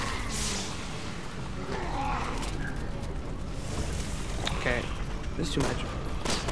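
Gunfire from the video game Resident Evil 6 in Leon's campaign, a run of shots and bursts spread through the moment under steady game noise, with a player talking over it.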